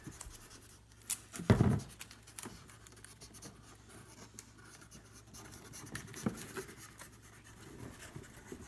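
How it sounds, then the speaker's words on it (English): Adhesive tape is pulled and pressed onto cardboard spacers on a homemade cardboard loom; one sharp tearing rip near the start, then quiet, faint rubbing and scratching as the strip is smoothed down. "tape these spacers down"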